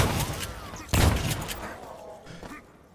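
A shotgun blast in System Shock, one sharp loud report near the start with a shorter shot before it, then a fading tail and faint game ambience.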